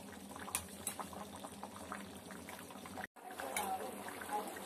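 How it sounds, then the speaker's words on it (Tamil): Thick bitter gourd curry (kuzhambu) bubbles and pops steadily in a pot, with a brief dropout partway through before the simmering resumes. "இது நல்லா கொதிக்கட்டும்."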